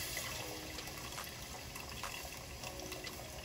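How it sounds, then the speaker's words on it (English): Pineapple juice from a can of pineapple chunks pours steadily into a cooking pan, a continuous splashing liquid trickle at moderate level with no talk over it. "I'm gonna use some of the water from the pineapple chunks"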